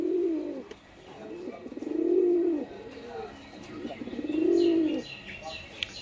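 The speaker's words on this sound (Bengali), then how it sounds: "খুব মস্তি মুডে রয়েছে আপনার পায়রা যাওয়াটা দেখুন" Pigeons give deep, rolling coos in slow repeated phrases, two louder calls standing out, with soft chirps and a quick flutter of wings near the end.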